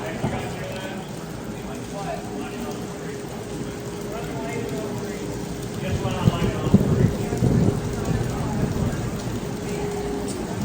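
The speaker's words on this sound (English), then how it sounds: "it is pouring rain now, so it's gonna hurt a lot" Heavy rain pouring steadily at an amusement park, a dense hiss with occasional louder rumbles and patters, people talking faintly underneath.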